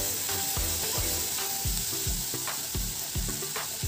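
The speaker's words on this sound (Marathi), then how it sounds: "आता मी इथे 2 मध्यम आकाराचे टोमॅटो रफली चॉप करून घेतलेले आहेत, ते टाकूया. हे देखील आपण व्यवस्थित मिक्स करून घेऊया." Two roughly chopped medium tomatoes frying in a pan, with a steady loud sizzle and a spoon stirring in regular, rhythmic scrapes about every half second, close up with no talking.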